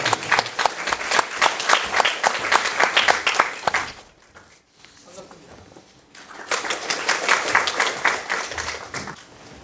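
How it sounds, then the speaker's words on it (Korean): Forum audience clapping to welcome a speaker to the stage, a loud burst of applause that fades to a quiet lull around the middle, then swells again into steady clapping. "큰 박수로 맞이해주시기 바랍니다."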